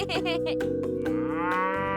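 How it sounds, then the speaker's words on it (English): A cow moos loudly and close by, one long drawn-out call that rises and holds with a full, rich tone. "That's right, a big friendly cow"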